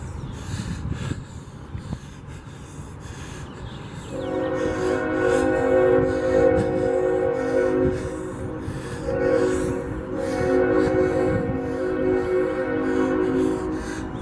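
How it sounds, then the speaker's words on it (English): A train passes in the distance beyond dense trees near a transit maintenance facility, starting as a faint rumble, then a long sustained horn blast rising and holding, with outdoor ambience and no talking. "I hear a train."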